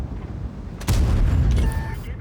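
A tank cannon fires a shell in an online tank battle game, one loud, close boom with a rumbling tail over ambient battle noise.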